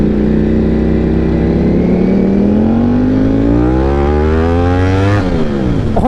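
A sports motorcycle engine, Yamaha R7 or Ducati Panigale V4, revs loudly and climbs steadily in pitch for several seconds before a quick shift-like dip and renewed rise, close and alone.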